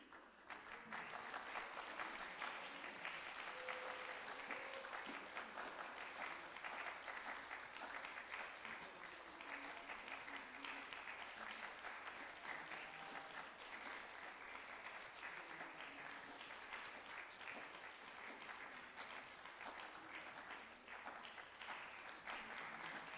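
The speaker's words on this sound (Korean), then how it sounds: "박수로 축복해 주시기 바랍니다" A church congregation at a Sunday service applauds as gifts are handed to elementary-school children, a long, steady wash of clapping that holds at a constant level from start to finish.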